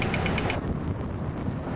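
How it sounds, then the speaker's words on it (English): A crosswalk signal at a busy street near a train station in Australia or New Zealand in 1993, heard as rapid mechanical ticking clicks for about half a second and then fading into general outdoor background noise. "That noise is the crosswalk."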